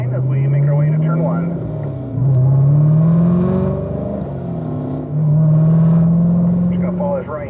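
Car engine at Ron Fellows Performance Driving School rolls out onto the race track, a loud steady drone that rises in pitch and eases off through gear changes, with a voice heard briefly at the start and end.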